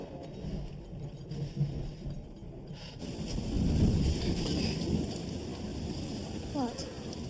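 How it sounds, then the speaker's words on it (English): Thunderstorm with steady heavy rain, a broad hiss of rainfall that swells with a low rumble of thunder midway, continuous and fairly close. "What woke you? The storm."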